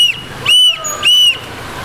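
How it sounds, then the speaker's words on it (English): Survival whistle for emergencies, blown in two loud, shrill, piercing blasts close to the microphone, each about a quarter second long, separated by a short pause. "use a simple tool, and whistles get the job done"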